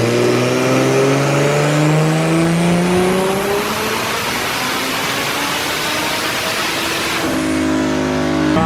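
Turbocharged BMW E46 M3 engine on a dyno pull, a loud continuous rev climbing steadily in pitch through the gears, then a sharp drop as the throttle closes near the end.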